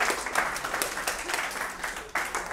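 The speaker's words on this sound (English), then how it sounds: "Let's give a round of applause for my assistant, Al." An audience at a parlour magic show applauds a magician's assistant, a short, steady burst of clapping heard close and moderately loud.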